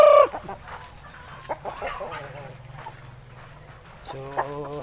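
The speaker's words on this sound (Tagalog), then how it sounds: "ganito talaga yung manok na ito" Shamo chickens on a free-range farm clucking and crowing in short bursts at close range. One loud call opens the passage and another comes near the end, with softer clucks and faint background voices between.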